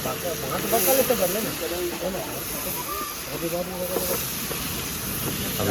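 Onions stirred and frying in a large pot for a big batch of Kutchi khari rice, a steady loud sizzle and hiss throughout with a person talking over it.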